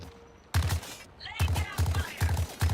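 Black Manta pistol from a hero shooter fires in rapid bursts, several tight clusters of sharp, loud shots in quick succession, with a short pause in the middle.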